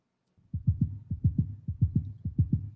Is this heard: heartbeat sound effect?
yes